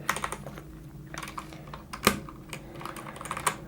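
Rapid, irregular keystrokes on a GK61 mechanical keyboard with red switches and a metal plate, close and clear, with a few sharper clacks standing out and no talking.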